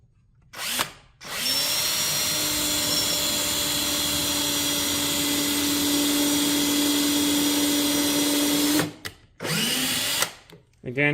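A loud power drill runs into wood in one long continuous whine for several seconds, close by, with brief speech before it starts and after it stops.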